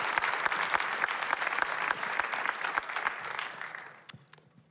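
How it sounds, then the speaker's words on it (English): An audience applauds a panelist and moderator at an evening forum event, a steady wash of many hands clapping that gradually thins and fades out near the end. "Can we just have another round of applause for this great panelist and our wonderful moderator"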